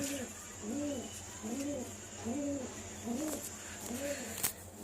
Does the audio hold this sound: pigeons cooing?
yes